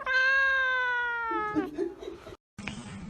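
A long drawn-out cat meow, loud and close, sliding down in pitch before breaking off, followed by a brief gap and faint noise.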